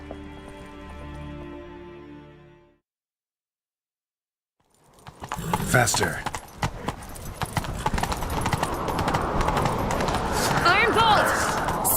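Horse hooves gallop in the Witcher 3 video game, a busy, rapid clip-clop that starts after a short music passage and a brief silence, with voices speaking over it.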